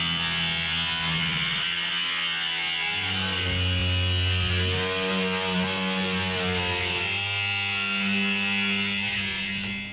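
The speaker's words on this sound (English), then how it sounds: "I'm just cutting the top part of the hood off." Power tool cutting the top section off a car hood, a loud continuous buzzing whine with shifting pitch as it works through the sheet metal, close and uninterrupted.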